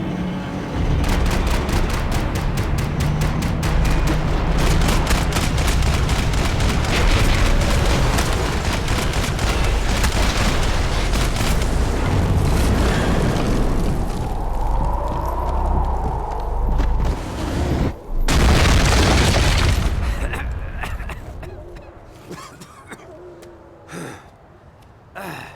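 Loud, dense gunfire and explosions from the Max Payne 3 video game, rapid shots rattling continuously with heavy booms, a brief cut of near silence, then another burst before the action fades to scattered quieter sounds.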